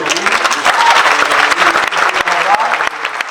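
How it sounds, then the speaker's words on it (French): A film festival audience in a cinema at Cannes applauds, with dense, sustained clapping from a large crowd that fills the hall and stays loud throughout, mixed with a murmur of voices. "on peut l'applaudir"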